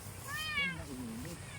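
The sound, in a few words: cats meowing, hungry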